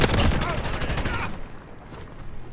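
A PKM machine gun fires in Modern Warfare: a rapid, loud burst of close gunfire for about a second, then decaying echoes and quieter ambience.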